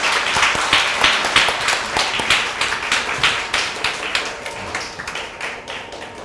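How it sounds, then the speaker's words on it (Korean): A church congregation claps together during a Sunday worship service after a prayer, steady and fairly loud applause that carries on for several seconds without voices over it, fading slightly toward the end. "박수할 때 들어가시면 됩니다"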